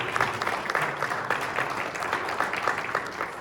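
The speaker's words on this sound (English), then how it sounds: "if we could give a round of applause to the judges for all the good work they did" Applause from an audience at a Texas A&M University event honoring the judges, a dense, even patter of many hands clapping close and fairly loud for a few seconds.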